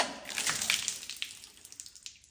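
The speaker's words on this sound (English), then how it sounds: "We're going to splash some water on the GFCI outlet." Water splashes onto a GFCI outlet in a short burst of close splattering and dripping that fades over about two seconds.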